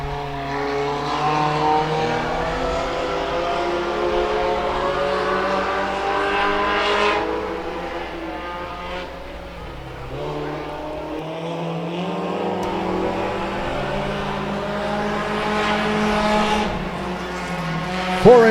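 Race cars roaring through a heat race on an oval track, engines droning and shifting pitch as the pack passes, loud and continuous with a crowd-like wash beneath.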